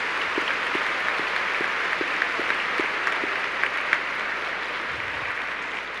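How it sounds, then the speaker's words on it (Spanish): A congregation at Sunday Mass gives a sustained round of applause: a thick wash of many hands clapping in a reverberant church, with a few sharper claps standing out, steady throughout the six seconds. "Les damos un aplauso."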